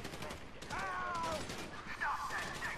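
Rapid gunfire bursts crackle through a busy, dense mix of game sound in Grand Theft Auto V, steady and loud across the whole stretch, with tonal whines rising in the middle.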